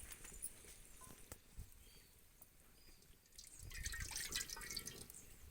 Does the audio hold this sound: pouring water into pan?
yes